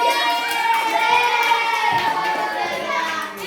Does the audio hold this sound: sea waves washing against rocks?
no